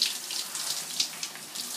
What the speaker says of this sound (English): He's having a lovely shower.